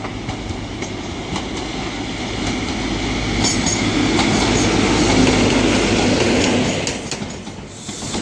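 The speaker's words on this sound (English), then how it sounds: "There's the cross-country HST coming in" A CrossCountry HST train arrives at Exeter St David's station on a Sunday evening, a loud, steady rumble of engines and rolling wheels that swells as it draws in, then eases.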